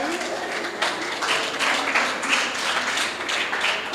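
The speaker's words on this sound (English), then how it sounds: "A round of applause for that." Audience applause fills a World Mental Health Day gathering, a dense, steady wash of many hands clapping close and loud for about four seconds without a break.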